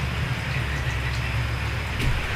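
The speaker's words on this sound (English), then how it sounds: "But of course it's nice and rainy today." Steady rain falls on a porch during a Kona Low storm, a continuous dense hiss of drops with no break.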